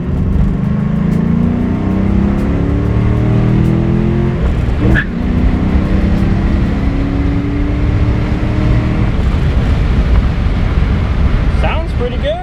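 A 2001 Ford Mustang Bullitt drives along a road, its engine droning loud and steady with shifting tones as it pulls through a bump, with a brief thump midway.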